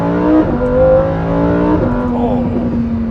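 A Lamborghini Huracan EVO accelerates hard with its engine revving high, loud and close, the pitch climbing through the gears before a shift and a steady high note, no voices over it.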